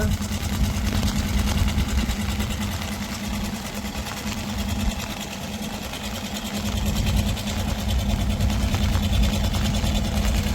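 A motor-driven engine pump draining floodwater from a fishing boat after heavy rain in Thoothukudi drones continuously with a dense, buzzing rattle, dipping briefly in intensity midway before returning to full strength.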